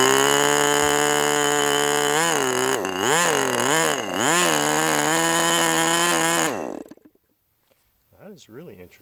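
A Fox 25 BBRC model glow engine screams at high revs with its high-speed needle opened wide, the pitch dipping and surging in several wavering swells before it cuts out abruptly, leaving brief quieter sputters near the end.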